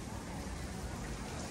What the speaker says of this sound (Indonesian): hujan, hujan, hujan